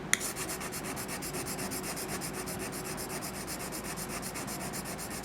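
A knife blade being sharpened while working a burr along its edge, with steady, even rubbing strokes repeating close by for several seconds; no one speaks.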